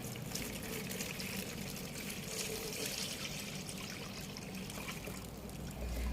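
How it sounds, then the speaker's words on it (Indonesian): A salt solution for soaking eggs poured into a container, making a continuous close trickling, splashing water sound with no talk. "Lalu kita tuang ke dalam wadah yang akan kita gunakan untuk merendam"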